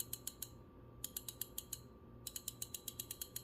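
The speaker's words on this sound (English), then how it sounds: "the drag clicker is just as loud as if you bought a 2024" Drag clicker on a 2019 Daiwa Certate spinning reel fitted with a 2024 spool, a crisp rapid train of small mechanical clicks in three bursts separated by brief pauses, close and quiet.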